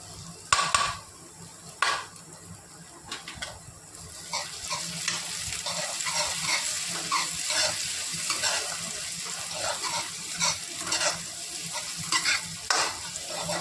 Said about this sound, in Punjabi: ਲਓ ਜੀ ਇਹਦੇ ਵਿੱਚ ਟਮਾਟਰ ਐਡ ਕਰ ਰਹੇ